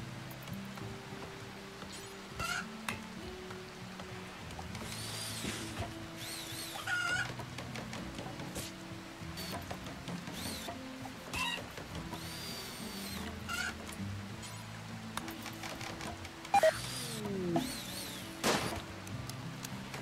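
Chickens cluck and crow in the colony-sim game Rimworld during a fox attack, with repeated short fowl calls over a steady busy game soundscape and occasional tool-like clanks.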